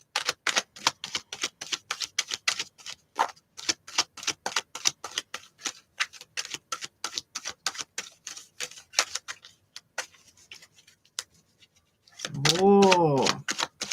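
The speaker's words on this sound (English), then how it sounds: "Let me just shuffle my cards here for a bit." Rapid, crisp clicking and riffling as tarot cards are shuffled again and again in bursts, close up, ending with a brief louder rustle.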